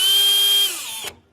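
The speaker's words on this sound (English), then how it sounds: "Now I know where to drill my hole, because you want to pre-drill for these hooks so they're much easier to put in." A power drill whines steadily with a high, bright tone while pre-drilling a hole in soft pine wood, then slows and cuts off after about a second, loud and close.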